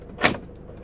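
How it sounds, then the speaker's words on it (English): Hymer T695S motorhome cab doors locking electronically, a single short mechanical clunk-whir from nearby, brief and isolated against a quiet background. "and then you can lock the doors"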